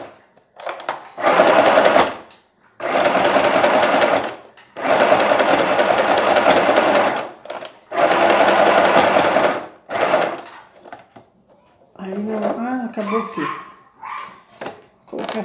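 A sewing machine runs in four loud, steady stitching bursts separated by short pauses, then stops as the bobbin thread runs out; a person's voice follows near the end.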